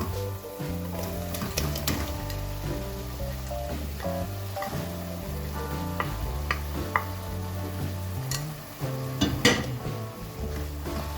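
Keema with masala and tomatoes fries in a pan, a soft sizzle under frequent clinks and scrapes of a utensil stirring against the pan, close up with no one speaking.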